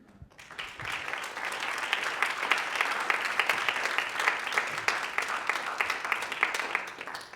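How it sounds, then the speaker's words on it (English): A room of alumni-panel attendees claps steadily for the panel, a dense, even wash of applause that starts quickly and holds at moderate volume throughout. "I want another round of applause for the panel"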